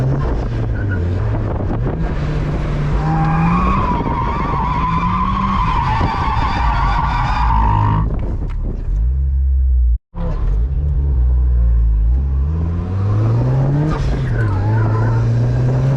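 A boosted Mazda Miata drifts with loud, sustained tire squeal and a revving engine, the screech rising and falling for several seconds, cutting out briefly, then resuming strongly.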